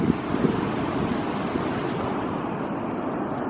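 Pacific Ocean surf and wind at sunset on a windy beach, a steady broad wash of waves with wind buffeting the microphone, loud and continuous with no talk.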